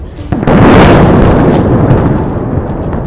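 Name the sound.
explosions from Israeli airstrikes on Beirut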